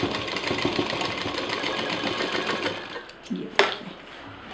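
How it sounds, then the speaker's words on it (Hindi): A sewing machine runs steadily with a continuous whirring, stitching a double line on fabric for a hanging organiser, then slows and stops with a short clack near the end. "यहाँ पर डबल मशीन चलाएंगे।"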